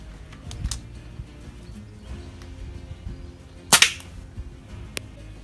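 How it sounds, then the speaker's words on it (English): A .177 air target pistol fires a lead pellet at a hard hat outdoors, giving one sharp crack followed closely by a second snap, against quiet background ambience with a few faint clicks. "So next one is the 177 target pistol. Fires these little lead pellets."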